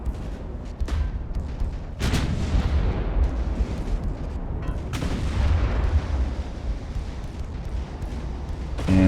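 Naval gunfire in the Ultimate Admiral: Dreadnoughts warship game, secondary batteries firing at targets: heavy booming reports, with sharp blasts near the 1, 2, 5 and 9 second marks over a continuous rumble of battle.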